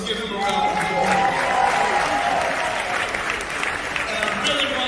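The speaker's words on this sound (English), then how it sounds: "Let's give him a round of applause." Audience at a Hip Hop Alliance morning show event applauds with steady, moderately loud clapping from a crowd, continuing evenly throughout with some cheering and voices mixed in.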